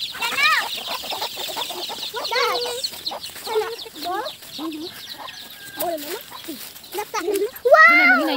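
Chickens cluck close by in a backyard, with a burst of squawking near the end, under frequent talk from adults and a child.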